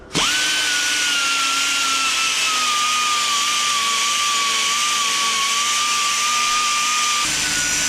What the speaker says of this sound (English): What I'm doing with this is sort of blending the grinding marks out as well from the angle grinder.